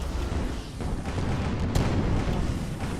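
Dense, rumbling gunfire and explosions fill a multiplayer Halo-style video game match, a continuous barrage with one sharper burst near the middle.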